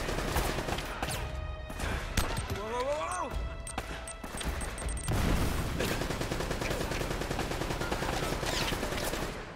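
Video game gunfire from Uncharted, including an M4 rifle: bursts of shots and a rolling explosion mixed with game sound effects, while a player talks over the action.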